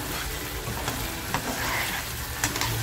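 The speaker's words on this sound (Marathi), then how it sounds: "मसाला फ्राय केलेला आहे" Masala for a low-oil dish wrapped in turmeric leaves fries in a small amount of reused oil, giving a steady close sizzle with occasional stirring scrapes and soft clicks.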